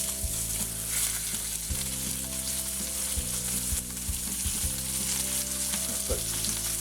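Grass-fed or store-bought beef sizzles steadily in a pan, a loud continuous frying hiss running alone throughout with no talk.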